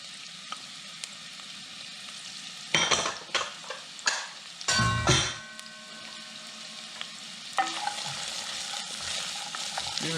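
Onion, carrot and celery sautéing in a pot for a hearty chicken and vegetable stew, a soft sizzle broken by bursts of stirring, utensil scrapes and clanks against the pot, close.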